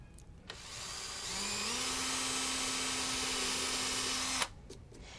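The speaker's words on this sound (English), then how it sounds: "holes that we're going to be drilling in the boot here" A power drill bores holes into a figure skate boot for temporary blade mounting holes, a steady close whine that spins up, holds for about three seconds and cuts off abruptly.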